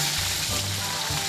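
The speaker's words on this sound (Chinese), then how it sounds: "下锅煎了才几秒钟的黄鱼" Yellow croaker frying in oil in a wok, a loud, dense, continuous sizzle heard up close with no speech.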